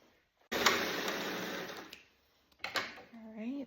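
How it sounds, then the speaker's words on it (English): An old sewing machine stitches a zigzag seam while a quilt is pieced, a fast whirring rattle running for about a second and a half, then a shorter burst, followed by a voice speaking. "And now we're gonna have a zigzag stitch."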